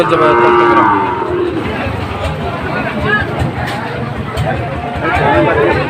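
Calves moo loudly and repeatedly over a busy hubbub of voices and crowd noise at a cattle market selling Sahiwal cattle.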